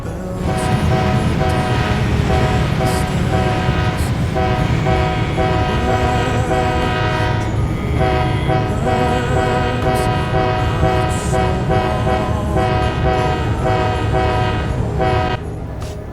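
A loud train horn plays Jingle Bells, sustained notes shifting pitch over a steady rumble for about fifteen seconds.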